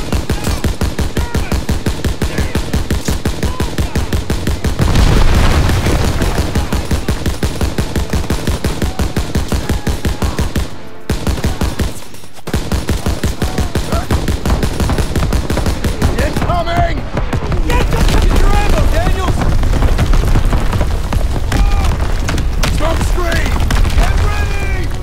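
WWII soldiers fire in a Call of Duty battle, with loud, sustained rapid machine-gun bursts and booms that pause briefly before resuming. Shouted voices come through the gunfire.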